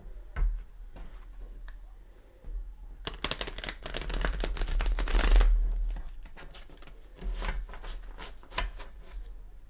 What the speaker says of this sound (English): I'm going to go ahead and give it a shuffle for you.